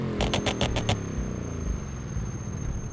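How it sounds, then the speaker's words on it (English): Brakes squeal on a car in the driving game BeamNG, a series of about six short, bright, high-pitched squeaks in quick rhythm over a steady engine drone, then fainter intermittent squeals as the car rolls on. "Nice little high-pitched squeak."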